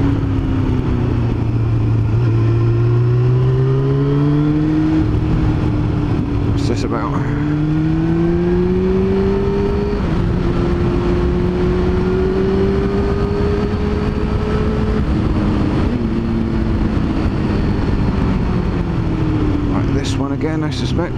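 A Yamaha R6 sport motorcycle rides along a twisty road, its engine droning steadily with pitch rising and falling through gear changes and corners, loud and continuous throughout, with wind buffeting around it.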